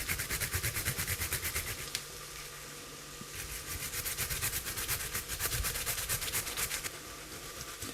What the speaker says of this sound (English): This is 3 centimetres of ginger I'm actually grating in here